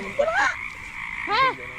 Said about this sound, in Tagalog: Ay, palaka.